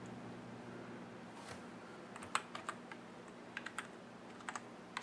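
A password being typed on a computer keyboard during a Mac OS X Snow Leopard installation on a PC: a handful of light, close key clicks in short irregular clusters over a steady low hum, faint, with no talking.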